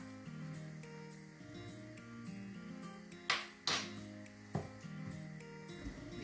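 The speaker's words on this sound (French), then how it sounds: "Je mélange le tout." Rice stirred in a cooking pot for waakye, with bean cooking water already in: soft scraping and a few sharp metallic clinks of a utensil against the pot, faint and close.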